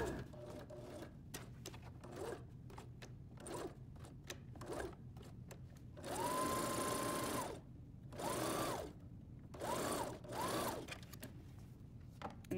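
Sewing machine straight stitching around a curved outer edge of a coverall at a quarter-inch seam: several loud bursts of fast mechanical whirring, separated by short pauses and small handling clicks.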